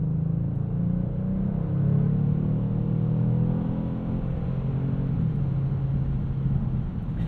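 A 2022 Kia Stinger GT2's 3.3-liter V6 pulls hard under acceleration, a steady close-up engine rumble with a rising drone and no talking, heard from the cabin.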